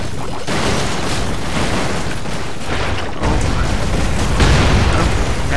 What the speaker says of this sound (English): Big booms.